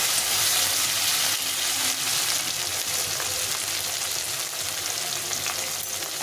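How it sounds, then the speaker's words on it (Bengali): Tomatoes frying in a pan for a cauliflower fish curry, a close, steady hissing sizzle that runs evenly throughout with faint crackles and no voices. "আর এদিকে আমার টমেটোটা কিছুটা ভাজা হয়ে গেছে"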